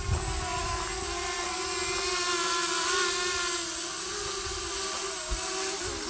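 A Hubsan Mini drone flying, its small propellers giving a steady, loud, close whine that holds constant throughout without speech.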